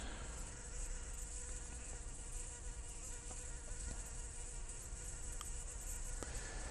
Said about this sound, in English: Like this bee is very frantic.